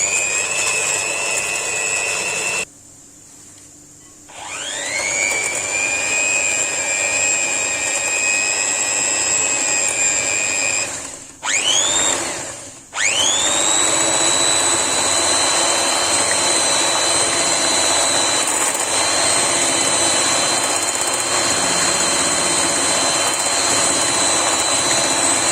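An electric mixer blends simple mini cake batter seasoned with a pinch of salt, its loud steady motor whine running continuously, cutting out briefly, restarting, then stopping and spinning up again for a long even stretch.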